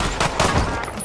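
Rapid gunshots in a PS4 game, a loud close burst of several cracking shots in quick succession over about a second, with no talking.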